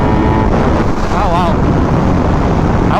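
A Kawasaki Ninja H2 motorcycle under throttle, engine roar buried in heavy, loud wind buffeting against the microphone at riding speed, continuous and close.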